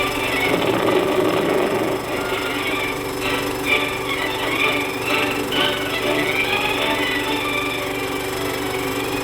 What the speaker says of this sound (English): Dynamiters drill into the solid granite, use their explosives, and let them rip.